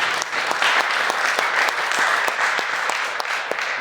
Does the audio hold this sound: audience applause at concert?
yes